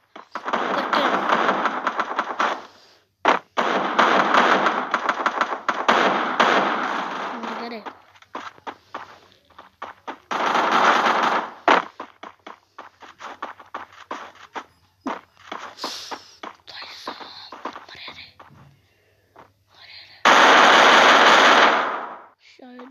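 Machine gun fire in a shooter video game comes in long rapid bursts with pauses between, loud and close, while players talk excitedly over it.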